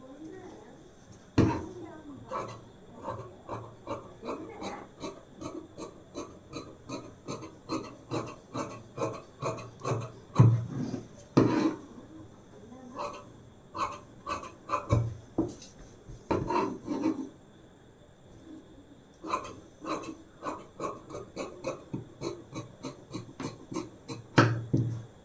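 Scissors cut lining fabric for a size-38 blouse with rapid, rhythmic snips and rasping, close up. The cutting runs steadily with brief pauses, and a voice talks now and then.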